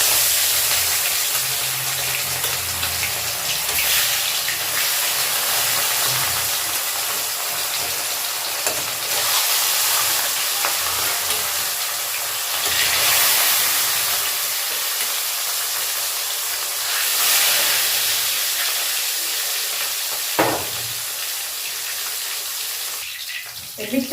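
Rohu fish pieces fry in hot oil in a wok, giving a steady, loud sizzle with crackling bursts that runs through the whole stretch, with no talking.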